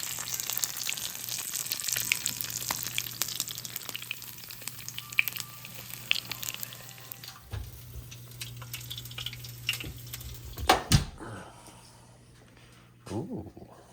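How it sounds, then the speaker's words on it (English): Thin strips of beef fat fry into cracklings with a steady, close sizzle and spatter, loud at first and thinning out later, with a few clinks and knocks near the end. "I cut it real thin into strips, and this is all gonna get fried like little cracklings of beef"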